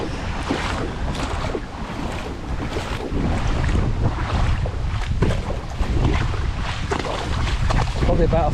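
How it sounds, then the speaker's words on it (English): Feet slosh and splash through roughly foot-deep floodwater after Hurricane Ian, with loud gusting wind buffeting the microphone throughout and repeated wading surges. "We're all walking in water."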